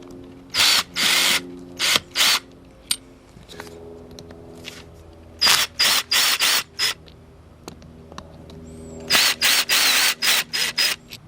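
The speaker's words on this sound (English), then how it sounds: "you'll want to remove these 3 screws with the Phillips and the drill" A power drill with a Phillips bit backs out screws on a Honda CT90 trail bike engine, sounding in a series of short whirring bursts separated by pauses and quiet clicks of handling.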